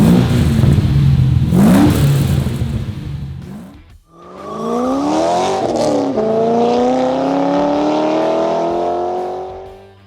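A 1969 Chevrolet Camaro RS/SS convertible with an LS3 V8 engine revs up loudly and close, dips briefly, then climbs again in long rising roars with no talking.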